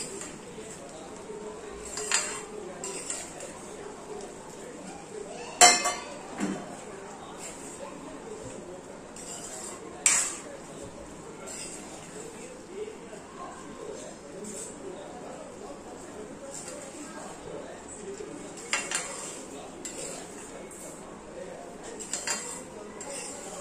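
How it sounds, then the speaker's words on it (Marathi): A spoon stirs jaggery sheera in a metal pan, making soft scraping and occasional sharp clinks against the pan over a long stretch, faint and close, with a voice talking at times. "छान असं ढवळून घ्यायचं"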